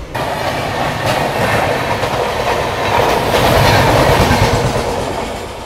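Kanchanjungha Express, the 13173 Sealdah–Agartala train, rumbles along the rails near Samsi station with steady clickety-clack and a broad wash of wheel and carriage noise, loud and continuous throughout.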